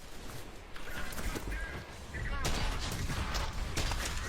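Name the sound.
shotgun gunfire from enemies in a video game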